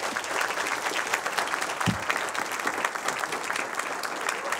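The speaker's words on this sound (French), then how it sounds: "On peut t'applaudir bien fort." An audience applauds a guest named Thierry, dense continuous clapping at moderate loudness with a brief low thump partway through and faint crowd murmur.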